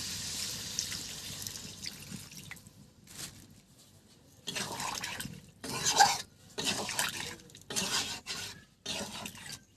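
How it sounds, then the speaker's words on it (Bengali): Water poured into a pan of cooked, spiced chicken, heard as several close splashing bursts separated by short quiet gaps. "এবার এটার মধ্যে জল দিয়ে দিলাম"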